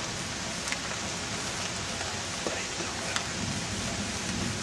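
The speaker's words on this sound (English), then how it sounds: "This is one crazy thunderstorm." Steady heavy rain from a severe thunderstorm hisses continuously, a dense wash of noise with a few faint drips and knocks standing out.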